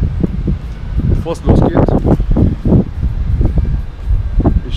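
Gusty outdoor wind buffets the microphone in uneven rushes, heard under someone talking in German throughout.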